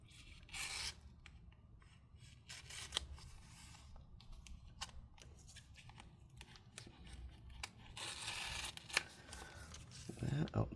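Scissors snipping and tearing tape during disassembly of a CyberPowerPC Fangbook MS-1763 laptop, close scratchy cuts and rustling scattered through the clip, with a person talking quietly.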